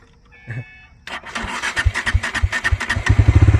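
A Bajaj Dominar 400 motorcycle engine cranks and catches, then revs in quick repeated bursts, the throttle blips growing louder and faster toward the end.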